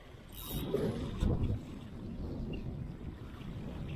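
Wind buffeting the microphone out on shallow saltwater flats while fishing, a steady low rushing roar with a stronger gust in the middle, with faint water and boat noise underneath.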